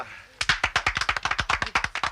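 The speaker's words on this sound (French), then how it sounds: "Messieurs, vous pouvez applaudir." A short burst of about twenty sharp, evenly paced hand claps, loud and close, starting after a brief quiet moment at a gorge-side gathering.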